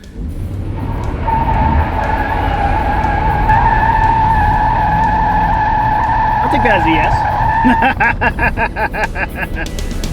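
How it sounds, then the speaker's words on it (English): A Chevy C1500 pickup truck does a burnout, its tires squealing and skidding in a loud, sustained screech over the revving engine, with someone speaking briefly near the end. "Let's find out if she can do a burnout."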